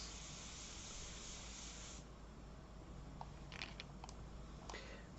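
An airbrush sprays India ink in a soft continuous hiss with a freehand shield; the airflow drops in tone partway through, with a few faint ticks after.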